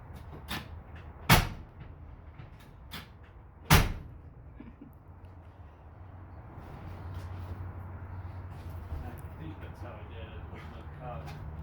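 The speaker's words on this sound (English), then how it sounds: "He's got to shut both doors really good." Car doors are shut twice, two sharp, solid thumps a couple of seconds apart and fairly close, followed by a low steady rumble in the background.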